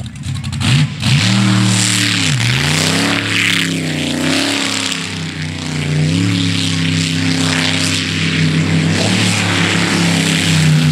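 A racing boat engine warms up close by at Webbs Slough, its loud snarling drone rising and falling in pitch with revs, alone and continuous throughout.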